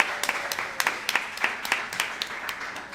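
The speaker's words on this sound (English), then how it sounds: "Please give Madison a round of applause" Scattered applause from a small crowd at a football and field hockey training spotlight, with sparse, uneven claps of moderate loudness and a thin, informal texture.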